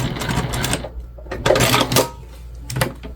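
A sewing machine bastes backpack fabric in short, rapid bursts of stitching, starting and stopping several times at close range with brief pauses between runs.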